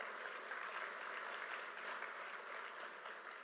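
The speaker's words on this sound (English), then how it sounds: "Let's give her a round of applause." A crowd at a LaGuardia Airport terminal celebration applauds New York Governor Kathy Hochul, a sustained, even roar of many hands clapping that sounds somewhat distant and soft throughout.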